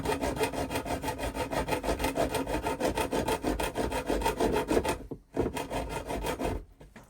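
A hacksaw cuts a slot into a metal boiler pipe with steady, rhythmic back-and-forth strokes. The sawing is close and continuous, stops briefly near the end, resumes for a moment, then tails off.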